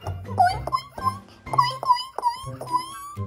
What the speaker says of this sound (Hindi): यूं कुत्ते की रोने की आवाज आई।